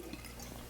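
Dark beer poured from a freshly opened bottle into a stout glass, a faint, steady liquid stream lasting under a second with no talk over it.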